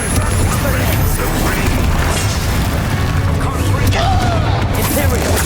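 Loud, repeated booming bursts from the Confringo blasting spell in Hogwarts Legacy during a final boss fight, dense crackling impacts layered over continuous combat noise.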